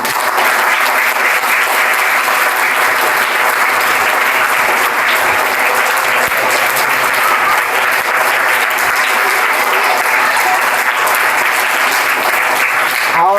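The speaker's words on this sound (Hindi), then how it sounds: "बच्चों का जोरदार से तालियाँ" Children at RD Public School clap loudly for KS Goga's magic show, a dense, roaring applause that holds steady and strong for the full length without letting up.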